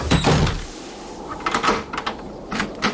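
A door closes and is locked with a cluster of close knocks and latch clicks, followed by several sharper rattling metallic clacks.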